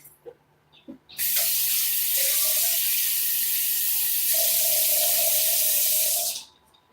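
A tap runs to refill a cup of painting water, a loud steady hiss of flowing water that starts abruptly after a few small clinks and stops sharply near the end.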